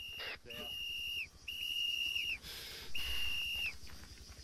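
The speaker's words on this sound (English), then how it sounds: "we've got whistles coming from the south" Sharp high whistles in the ARMA 3 Vietnam War mod SOG Prairie Fire, three sustained blasts with short gaps, loud and close over steady background game noise.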